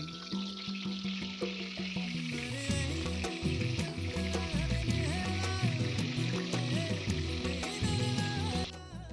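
Fish fries in oil in a home kitchen pan, a continuous close crackling sizzle with sharp pops and spatters that swell and then cut off abruptly at the end, no talk.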